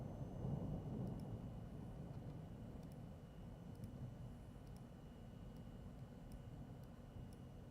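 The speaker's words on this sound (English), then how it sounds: "There's a rumble of thunder." Distant thunder rumbling during strong evening thunderstorms, a faint low roll that swells in the first second or so and then fades into a steady dull background, with no talk.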